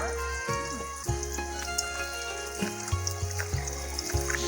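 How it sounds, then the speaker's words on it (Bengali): Soybean chunks being washed in water in an outdoor village setting, with splashing and trickling as they are rinsed and handled, close by, in intermittent bursts over a low steady hum, without talk. "এটা আমি এখন সোয়াবিন দিয়ে ধুয়ে নেব।"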